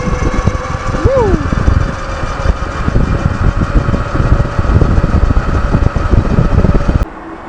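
A direct drive hub motor on an electric bike runs with a steady loud whine and rushing hum, while a brief rising tone sweeps early on and the drone cuts back near the end.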